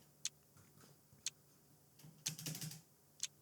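A few isolated sharp clicks sound from a computer keyboard, spaced about a second apart, with a short cluster of quick keystrokes in the middle, quiet and close in an otherwise still room.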